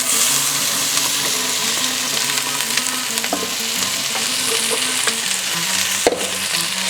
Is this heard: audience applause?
no